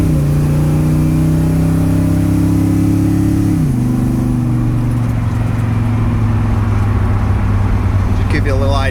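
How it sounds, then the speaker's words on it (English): A 1955 Ford F-100 hot rod pulls away in first gear, its engine note loud and close, rising strongly, then dropping at a shift before climbing again with a steady roar. "I'm going to take off in first gear now."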